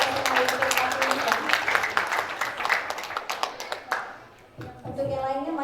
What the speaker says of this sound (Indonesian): Kita beri tepuk tangan SMA YPK Timika